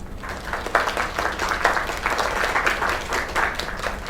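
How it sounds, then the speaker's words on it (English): An in-game crowd at a singing performance in Lake applauds, a dense, steady patter of many hands clapping throughout, moderately loud with no voices over it. "Another round of applause."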